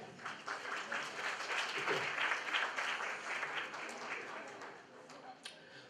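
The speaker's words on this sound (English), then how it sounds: "Your applaud, please." At an Azerbaijan presentation night in South Korea, an indoor audience breaks into steady applause after a folk music performance, swelling then fading, with a voice talking faintly underneath.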